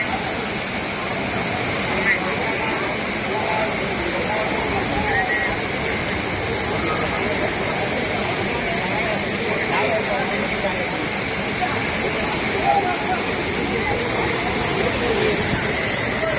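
Rushing water roars in a steady, dense wash like a waterfall, constant and loud, with voices faintly mixed in.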